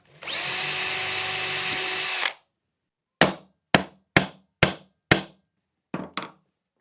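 Hammering three nails along the edge of a wooden nesting box, a run of seven sharp, separate strikes that echo briefly after a long steady whir of a power drill.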